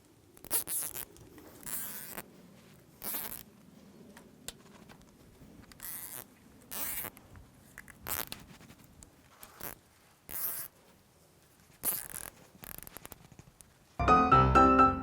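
Zip ties being pulled tight around the frame of a homemade artifact sifting screen, a series of short ratcheting zips at irregular intervals with quiet pauses between, close and fairly clear, ending in a louder rustle.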